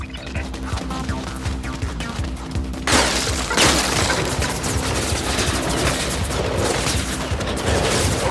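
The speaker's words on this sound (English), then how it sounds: "Shooting an enforcer squad." Gunfire aimed at the player during an enforcer squad attack in Mirror's Edge Catalyst, dense rapid bursts with shattering crashes that grow louder partway through, layered over game noise.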